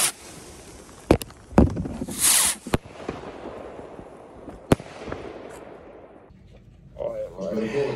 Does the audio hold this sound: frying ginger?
no